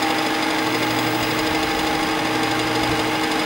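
A metal lathe cutting a deep taper bore at half a millimetre depth of cut, a continuous close mechanical whirr and grind that holds steady throughout.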